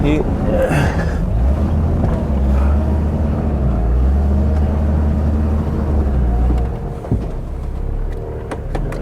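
An off-road Suzuki is driven slowly during a rollover recovery, its engine droning low and steady for several seconds before easing off, with people talking over it.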